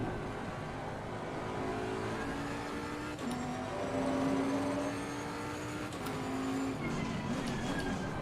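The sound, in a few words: race car engine at Monza in video game Assetto Corsa Competizione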